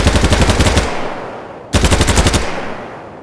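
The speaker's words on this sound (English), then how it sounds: "they all sound distinct and include little features such as the sound of your gunfire changing as you start running low" Rapid automatic gunfire in the shooter game BattleBit Remastered, two loud close bursts of fast rhythmic shots separated by a brief pause, each ringing off afterward, with no voices.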